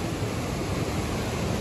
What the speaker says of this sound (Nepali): एकदम खोला त पुरा बढेछ नि यार है।